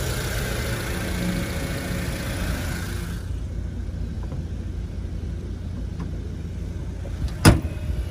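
A 2003 Mitsubishi Lancer with a 1.6 engine and automatic transmission idles smoothly in a steady low rumble, which softens partway through, with one sharp click near the end.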